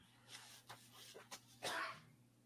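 A single quiet sneeze near the end, preceded by faint breathy sounds and rustling in a hushed room.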